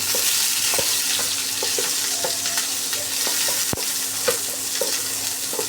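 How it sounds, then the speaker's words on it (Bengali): Dried and green chilies fry and get stirred in a pan with onions, a steady close sizzle broken by scraping stirs and a sharp clack near the middle. "এটা একটু নেড়ে চেড়ে ভেজে নিই"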